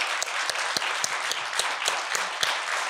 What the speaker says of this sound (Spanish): le damos un aplauso con cariño al doctor Miguel Ángel Gou